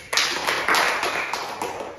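Small group in a therapy session clapping for a woman named Ibu Sudi, close and fairly loud, a ragged burst of hand claps with distinct sharp onsets that gradually thins out.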